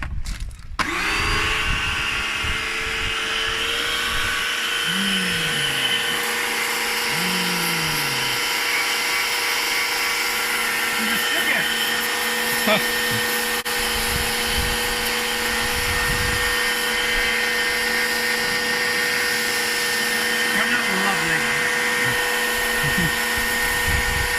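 A worn Bosch pressure washer running while cleaning an old 27-year-old lawn mower, with a steady loud motor drone and whine and a few pump pulses near the start.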